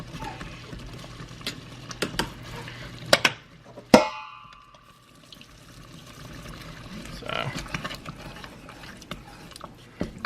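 A spoon presses down on tomatoes in a pan of Bolognese sauce, giving wet squelches and juicy liquid sounds with a few sharp clicks, the loudest clink near the middle, under a voice talking.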